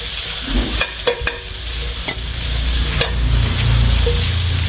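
Chinese sausage sizzles in a hot pan without oil while a utensil stirs and scrapes, with a few sharp clicks early and a steady frying hiss building later.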